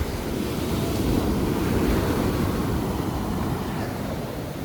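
Rough waves at a beach in Cabangan, Zambales, Philippines, crash and churn in a constant heavy roar close by, the surf noise steady and full throughout.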